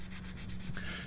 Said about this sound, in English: I'm just cleaning off some of the surface ruts and rust and bits of splatter